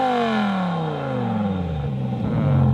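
A BMW M5 engine with its exhaust valves closed revs up, then its pitch falls steadily as the revs drop. It is a loud, close, smooth drone that ends in a low rumble, with no talk.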